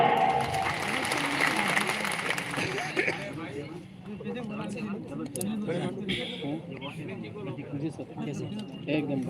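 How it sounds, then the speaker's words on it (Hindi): Crowd applause at a political rally after a candidate's nomination, loud dense clapping for about three seconds that fades into crowd noise and a voice talking over it. "जोरदार तालियां।"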